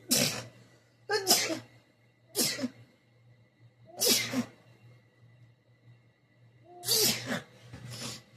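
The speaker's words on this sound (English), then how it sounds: "I need to sneeze." A string of sharp sneezes, about six of them, burst out one after another close up with short quiet gaps and a faint hum between.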